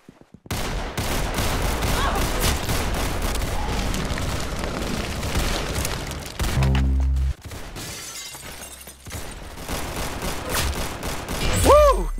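Rapid bursts of gunfire in a shooting game, dense and loud throughout with heavy booms and shattering impacts, a brief pause near the middle before the shooting resumes.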